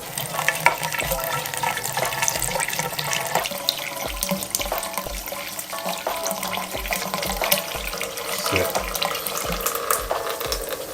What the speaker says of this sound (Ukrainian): І наливаємо воду, поки звідти вона не почне утікати.